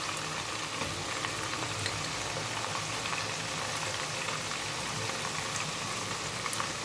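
Green chilies and nihari masala frying in hot oil for chicken nihari, a steady dense sizzle and crackle with no pauses.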